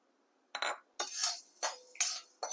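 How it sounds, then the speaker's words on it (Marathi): Black peppercorns dry roast in a pan, sounding as several separate bursts of rattling, scraping clatter with short silent gaps between them, close and fairly soft. "आता मिरं भाजून घेऊया."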